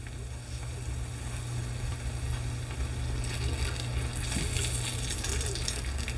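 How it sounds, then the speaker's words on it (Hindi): Urad dal tikkis deep fry in oil in a kadhai, giving a constant close sizzle and bubbling hiss that grows brighter and busier toward the end. "अब मैं इसे डीप फ्राइंग के लिए कढ़ाई में डाल दूंगी"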